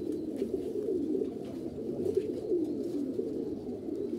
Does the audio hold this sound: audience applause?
no